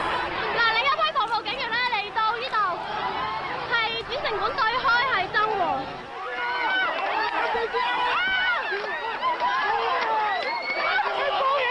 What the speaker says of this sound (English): There is over thousands of people gathering here.